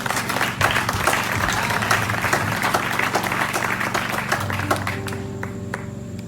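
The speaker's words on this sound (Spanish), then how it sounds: "Aplauda al Señor" A church congregation applauds during a sermon, loud sustained clapping from a large crowd with a low musical drone underneath, continuing steadily for several seconds.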